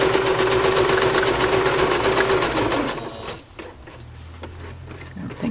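A sewing machine stitches a wide zigzag through paper, a steady loud mechanical whir with rapid needle rhythm for about three seconds before it stops, leaving quieter scattered clicks and handling sounds.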